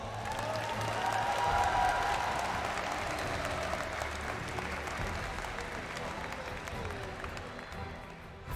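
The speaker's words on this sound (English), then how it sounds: "Can we give them a round of applause?" An audience at a Mobile Legends M5 esports knockout match applauds, with dense, steady clapping and some cheering that fades slowly over several seconds, and a voice faintly underneath.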